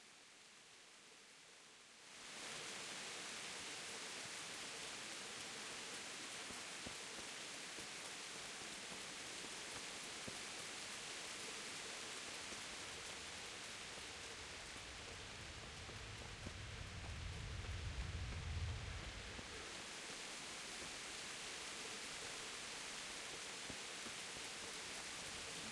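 Steady rain pours across an outdoor scene in the medieval game Kingdom Come: Deliverance, a dense, even hiss with a soft low rumble swelling briefly partway through, no voices.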